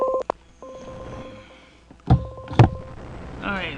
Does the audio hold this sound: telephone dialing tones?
yes